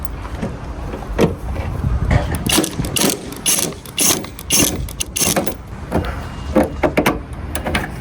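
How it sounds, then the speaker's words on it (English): Ratchet tool working Torx bolts loose on a car headlight assembly, repeated close clicking and metallic mechanical rasps in short bursts, no talking. "So I'm going to take out these Torx bolts."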